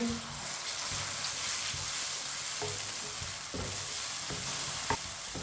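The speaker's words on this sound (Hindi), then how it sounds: "मिक्स करके टमाटर को भी 3 मिनट के लिए पका लेंगे" Chopped tomatoes and green chillies sizzle steadily in a pan while being stirred, a close, continuous frying hiss with occasional soft clinks and scrapes of the spoon.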